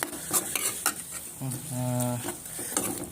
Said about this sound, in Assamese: চাওকচোন এইখিনি অলপ ভাজি লৈ এনেকৈ লৰাই ভাজি আছোঁ।